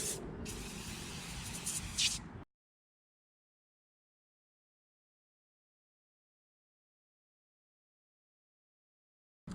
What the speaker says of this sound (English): just going to spray on a little bit of Meguiars Bug and Tar Remover.